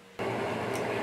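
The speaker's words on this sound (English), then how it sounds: "what you're hearing right now is my ventilation fan in my studio" Ventilation fan in an art studio switches on abruptly and runs as a steady, fairly loud broadband whoosh with a faint hum beneath it.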